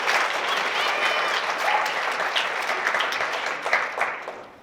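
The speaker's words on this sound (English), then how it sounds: "round of applause for these guys because they're making it happen" An audience applauds steadily, a dense wash of clapping that holds, then tapers off near the end, with some voices mixed in.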